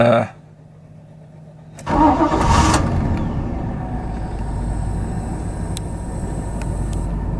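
An LT1 V8 swapped into a 1983 Buick LeSabre wagon cranks in a short loud burst after a quiet moment, then settles into a steady, close idle rumble.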